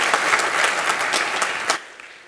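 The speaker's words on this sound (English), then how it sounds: "You can clap for him if you want." Congregation at a church service applauding a reader after a scripture reading, a dense wash of clapping that holds steady, then stops abruptly near the end.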